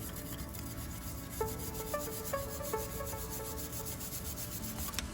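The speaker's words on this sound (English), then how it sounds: "So I like to take this brush and I just get in here and I just clean those out." A brush scrubs surface rust off the rear brake caliper bracket of a VW Passat during a pad and rotor job, a continuous close rasping rub with several short metallic clinks and taps in between.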